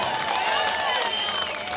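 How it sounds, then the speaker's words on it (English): An outdoor protest crowd in Melbourne applauds a speaker with continuous clapping and cheering, a loud, sustained wash of hands and raised voices from many people. "So give her a big round of applause, ladies and gentlemen"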